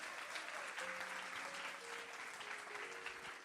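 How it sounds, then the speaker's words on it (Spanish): A church congregation breaks into steady, dense applause during a Spanish-language sermon, the clapping filling the room evenly while soft sustained musical tones hold underneath. "dale un aplauso al Señor."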